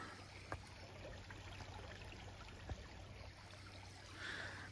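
A creek runs high after rain, its water flowing and trickling in a steady broadband rush close by, with a few brief knocks and a slight swell near the end.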